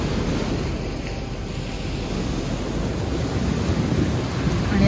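Caribbean sea waves wash onto the hotel-lined shore of Puerto Rico, a loud, continuous rushing surf with a deep rumbling undertone, close and steady with no pauses or voices.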